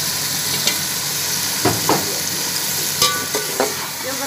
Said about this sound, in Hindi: अब आलू को चिकन को मैं ज़रा भूनूंगी